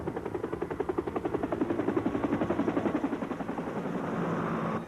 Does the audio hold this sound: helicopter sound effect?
yes